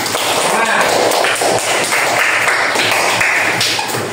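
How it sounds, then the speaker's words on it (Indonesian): A fifth-grade classroom applauds a student group after its presentation, producing several seconds of steady, dense clapping that fills the room at close range, with voices mixed in. "Kasih aplaus untuk kelompok 2."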